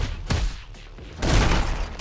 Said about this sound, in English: I just got hit with a shotgun